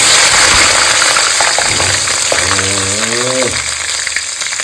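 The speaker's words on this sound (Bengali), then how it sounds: "গোটা গোটা আলু কয়েকটা ভেজে নেবো" Whole potatoes frying in hot oil, a loud continuous close sizzle, with a brief voice-like tonal hum in the middle.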